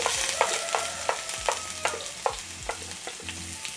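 Red and green onion frying in hot oil in a pan, a steady close sizzle broken by regular scraping stir strokes roughly twice a second, with no voices.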